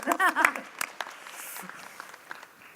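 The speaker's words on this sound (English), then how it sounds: "Let's give him a round of applause." Brief applause from a panel session audience at a motor show event, scattered claps rising under a voice at the start, then thinning out into sparse, fading claps.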